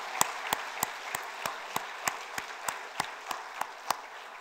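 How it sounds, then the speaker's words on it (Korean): A congregation at a New Year's Eve service in Gimhae Hwalcheon Church claps in unison, about fourteen evenly spaced sharp beats, soft and steady throughout. "다시 한번 영광과 감사의 박수 하나님께 돌려드립니다."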